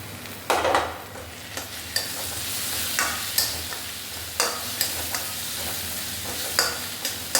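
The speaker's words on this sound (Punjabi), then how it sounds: "ਇਹਨੂੰ ਵੀ 2 ਮਿੰਟ ਭੁੰਨਾਂਗੇ ਹੁਣ ਇਹਦੇ ਵਿੱਚ ਪਾ ਦਾਂਗੇ ਜੀ ਆਪਾਂ ਲਾਲ ਟਮਾਟਰ" Red tomatoes fry in a pan for a potato and eggplant curry, giving a steady close sizzle broken by repeated sharp scrapes and clicks of a stirring spoon, with no voices.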